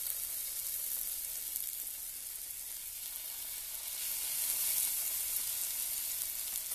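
A hot pan sizzles steadily while a cook prepares filet mignon, asparagus and snap peas, giving a continuous faint crackling hiss with no talk.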